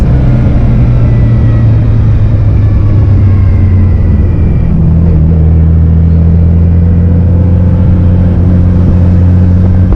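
A Nissan R33 GTR engine drones steadily from inside the car, a loud sustained low rumble with rising tonal lines as it winds out under acceleration, with no talking.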